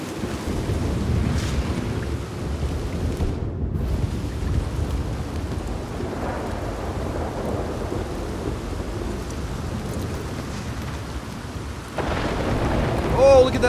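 A thunderstorm with steady rain in Red Dead Redemption 2: continuous loud rainfall hiss with low rumbling thunder throughout, briefly dipping before a fresh surge near the end.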